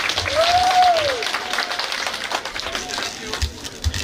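Applause from the congregation at a Sunday service in a Pentecostal church in Igembe North. The clapping is moderately loud and mixed with voices and crowd murmur.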